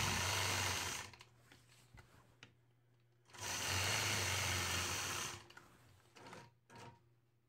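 A sewing machine stitching a quilt block along a curved line, two loud sustained runs of fast whirring stitching separated by a quiet pause and a few short clicks.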